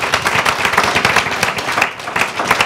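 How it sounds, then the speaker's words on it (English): A panel audience at a graduation-rate forum gives a short, dense burst of applause, close and steady throughout with no voices over it. "can I have a round of applause for the"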